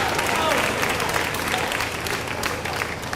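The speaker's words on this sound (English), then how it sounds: "Let's give all these young ladies an applause." Applause at a high school athletic banquet for the 2014-15 girls' volleyball team, a continuous roomful of clapping that stays fairly even throughout.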